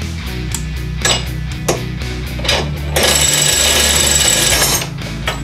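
A Ryobi extended reach ratchet wrench tightens and loosens a bolt, giving a rapid mechanical clatter with a louder sustained run midway, heard up close and loud.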